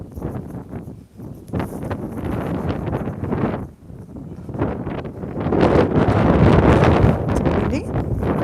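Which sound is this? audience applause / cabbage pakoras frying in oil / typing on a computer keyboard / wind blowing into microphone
wind blowing into microphone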